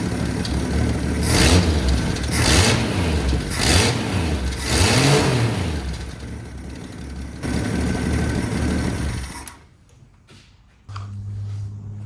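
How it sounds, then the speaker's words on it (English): 1962 Ford Ranchero inline six engine with a big exhaust leak, revving in repeated throaty bursts then settling to a rough idle, cutting out briefly before running again, close and loud. "There's a big exhaust leak on that end."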